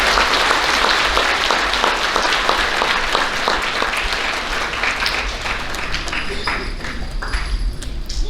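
Loud, dense applause from an audience at an elementary school awards ceremony honoring students, sustained and close for the whole stretch, thinning only slightly toward the end.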